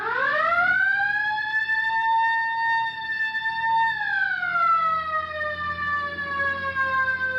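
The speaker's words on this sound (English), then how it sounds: "All right, hit the siren." A police car siren in a 1950 Dragnet radio drama wails loud and steady, then its pitch slides downward as it winds down, with no talk over it.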